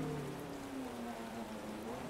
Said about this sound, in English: Look at all the raindrops there on the windscreen.